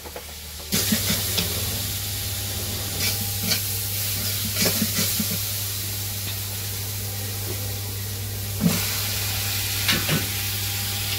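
Chicken meat cooks in a pan in a Bangladeshi village kitchen, giving a steady, close sizzle with occasional scraping stir sounds and no talking.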